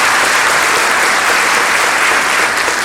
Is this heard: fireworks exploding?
no